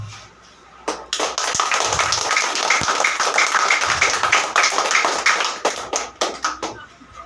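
A church congregation claps together in praise to God, a dense, loud run of sharp hand claps that starts after a brief quiet moment and carries on steadily to the end.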